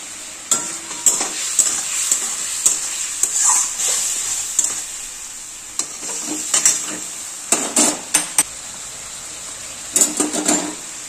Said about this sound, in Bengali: দেখো বন্ধুরা, ওই মশলাটা তো প্রায় কষিয়ে এসছে।